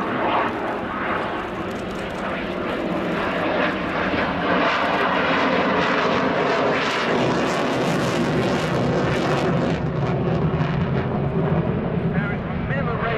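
A Belgian Air Component General Dynamics F-16AM Fighting Falcon jet in a flying display, its loud continuous roar filling the air with little change, under a faint commentator's voice.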